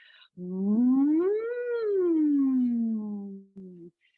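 A voice imitates a tornado siren with one long, smooth rising and falling wail, followed by a short tail-off.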